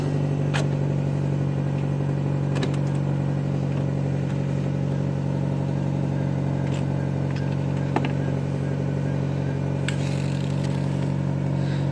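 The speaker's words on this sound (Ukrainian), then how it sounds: "Як ти в мінус 20 машину думаєш завести?" A car engine running in freezing cold at minus twenty, a steady low rumble with faint revving and occasional clicks throughout, no talk.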